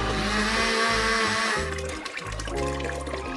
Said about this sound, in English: That's why this blender can't handle it.